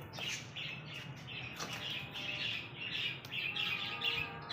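Pet birds at a bird market squawking and chirping as grain is scattered for them, a busy cluster of shrill calls with some wing flutters at moderate distance, no speech.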